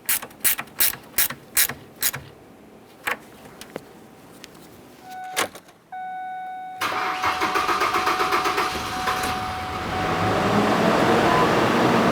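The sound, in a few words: Ford Ranger 2.3L engine starting and running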